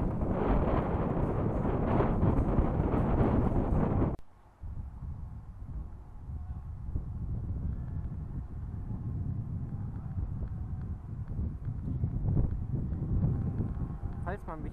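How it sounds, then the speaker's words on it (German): Wind buffets a handheld microphone outdoors at night in Antwerp near the Sint-Anna Tunnel, with a heavy roaring rumble that drops suddenly after a few seconds and continues as a softer, steady gusting noise. "bei dem Wind, der hier bläst"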